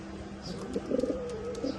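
A male Pakistani teddy pigeon coos close by, several low rolling coos in quick succession over faint background noise.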